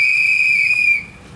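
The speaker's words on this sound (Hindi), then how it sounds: "अगर कभी भी किसी महिला के साथ यौनिक हिंसा होती है तो उसका रोकने के लिए सीटी बजाइए" A sharp, steady whistle blown loud and close during a street play about women's safety on public transport, holding one long piercing note for about a second before cutting off, with no talk.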